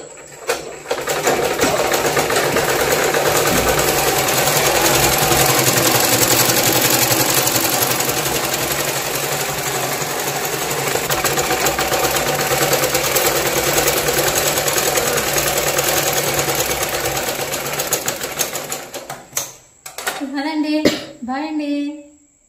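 An electric sewing machine stitches a blouse with a steady whirring hum that runs loud and continuous for about twenty seconds, then stops, leaving a few brief clatters and faint voices at the end.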